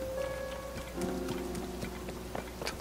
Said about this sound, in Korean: 지금 어차피 비가 와서